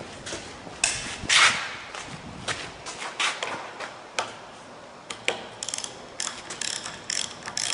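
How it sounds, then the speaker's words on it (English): The hold-down plug of a progressive cavity pump is unscrewed with a wrench, making irregular ratcheting clicks and metal-on-metal scrapes up close. "Screw the hold down plug out."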